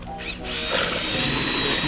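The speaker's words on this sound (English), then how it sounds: "mix it up nicely with the drill" A power drill starts up and whirs steadily with a churning, sloshing texture as it mixes sugar water for bees, loud and close for a couple of seconds.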